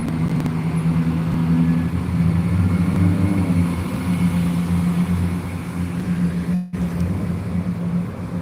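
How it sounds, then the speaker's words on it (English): A car engine running loud and steady on a street near a railway station in Gloucester, a constant droning roar with a strong low hum that holds throughout, broken only by one brief gap. "There's an idiot with a car making a very loud sound as well."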